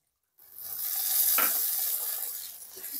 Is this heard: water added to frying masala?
yes